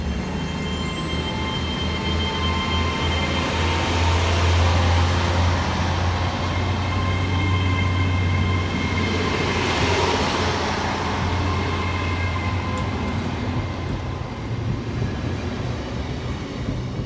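A GWR Class 802 train pulls away from Malvern Link station, a steady low engine drone with rising whine and rail noise that holds throughout, fairly close and with no talk over it.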